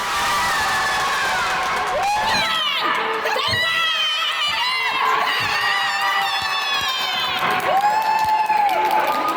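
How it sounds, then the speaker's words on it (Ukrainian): Futsal fans in an indoor arena cheer and clap after a goal, with loud continuous crowd noise, shouts and whoops. "На 11-й хвилині вже наші вболівальники оплесками зустріли шостий гол."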